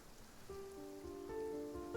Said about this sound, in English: They're having this conversation in the rain.